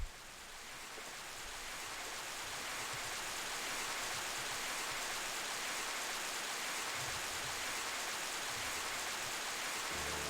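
Heavy downpour from the video game Baten Kaitos, a steady broadband hiss of rain that swells in over the first few seconds and then holds constant, with no voices.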